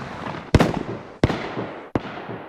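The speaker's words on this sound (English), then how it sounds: "the BK-12 single barrel shotgun, which now thankfully has a separate sound to the new double barrel shotgun sounds" Three sharp shotgun blasts from DayZ, likely the BK-12 single-barrel, each a loud crack with a short echoing tail, spaced under a second apart, with no talking.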